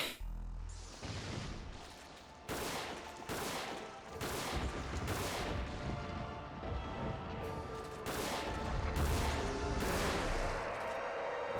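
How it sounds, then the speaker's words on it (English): Shotgun blasts in a video game, a series of loud, booming shots fired at irregular intervals a second or two apart, each with a long decaying tail, with no voices. "let's try the shotgun."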